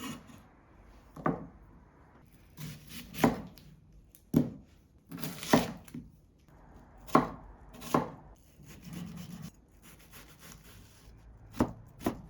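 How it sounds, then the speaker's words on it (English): A knife chops through a pickle on a cutting board in a series of distinct, irregular thuds with quiet pauses between strokes, close and fairly soft, with no talking. "If it's like a big pickle, just cut into quarters lengthways."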